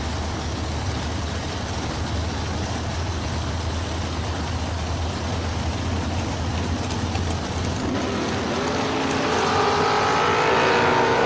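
Dragsters roaring at a drag strip, a dense, continuous loud engine blast that builds and shifts in pitch toward the end as the cars launch and pull away, with no talk.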